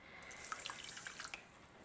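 Water runs into a kitchen pot holding sugar, a faint, brief trickle with small splashy drips over about two seconds.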